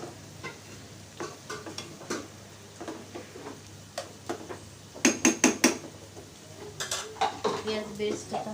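Sliced onions for beresta frying in a pan with a little salt, stirred with a utensil: a steady low sizzle runs under repeated scraping and clinking of the spoon against the pan, with a few sharper metallic knocks near the end.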